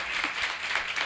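Audience applause at a women's church conference, steady dense clapping from a crowd filling the whole moment with no pauses.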